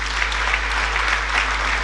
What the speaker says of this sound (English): May we please, once more, a big round of applause for President Goodluck Ebele Jonathan